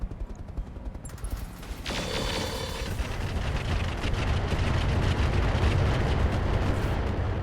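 Rocket impacts in the RogueTech mech game, a continuous rumbling barrage of blasts that swells after a brief lighter start and holds loud and dense to the end.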